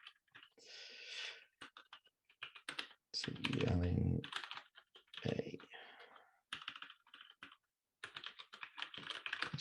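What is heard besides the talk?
touch typing on a computer keyboard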